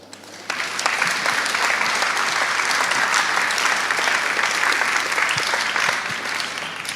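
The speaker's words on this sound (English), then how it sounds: "I think that's worth an applause." A conference audience at re:publica 2014 breaks into applause after a presentation, starting abruptly and holding as a dense, steady clatter of many hands for several seconds before tapering slightly.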